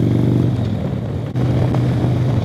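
A Harley-Davidson CVO motorcycle on a Hill Country road ride, its loud engine droning steadily up close with wind rush, dipping briefly as a gear shifts before the rumble resumes.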